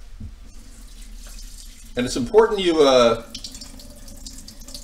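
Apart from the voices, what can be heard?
tap water rinsing brown rice in sink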